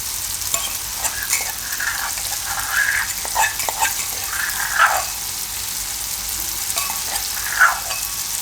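Crushed garlic and green chili paste frying in a pan with ridge gourd for sev galka nu shaak: a continuous near sizzle broken by several louder spatula scrapes and stirring clatters, with no talking.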